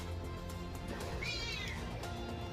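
A cat meows in the video game Final Fantasy XIV, a short rising-and-falling call over a steady bed of game music and ambience.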